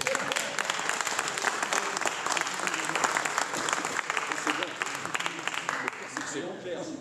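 Steady audience applause fills a hall at an annual general assembly of a museum friends' association, many hands clapping densely and evenly for several seconds before thinning slightly toward the end.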